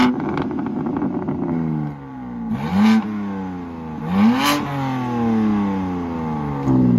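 BMW M4 Competition revving and accelerating, its exhaust climbing in pitch through repeated gear pulls with brief dips at the shifts, loud and close with no talking.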